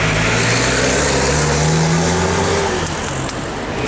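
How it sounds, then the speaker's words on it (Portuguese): A car entered in a Mitsubishi rally at the Patamares start passes close by, its engine droning loudly with a shifting pitch, set against continuous road and crowd noise. "E aí tá passando um carro que vai participar da Mitsubishi."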